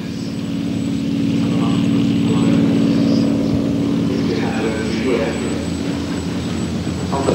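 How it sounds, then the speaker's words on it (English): A Spitfire's propeller engine drones loudly and continuously as the vintage fighter goes round again instead of landing at an airfield display, a steady rumbling roar while a voice talks over it. "the Spitfire pilot goes round again"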